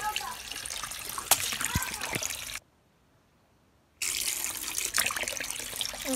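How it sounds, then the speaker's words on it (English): Hot tap water runs hard into a sink in two steady, close rushing stretches, broken by a brief silent gap and a few sharp clinks and splashes. "I'm gonna have to put some cold water in them because this is really hot"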